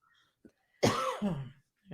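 A close, harsh cough burst from someone recovering from COVID, followed by a rougher throat-clearing rasp, with a brief quieter sound before and another starting at the end.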